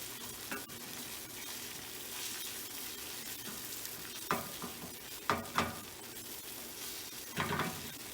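An egg frying in a pan that is moved back and forth, a soft continuous sizzle at medium heat broken by a few scraping knocks of the pan, close up with no talking.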